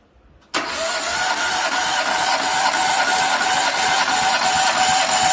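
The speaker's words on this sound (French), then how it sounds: "Il y a quelqu'un qui se met au contact, puis à fond sur l'accélérateur et il met un coup de contact." A car engine suddenly cranks with the throttle held wide open during a cylinder compression test, a loud, steady whirring starter drone that begins abruptly after a brief quiet moment and continues unbroken to the end, with no speech.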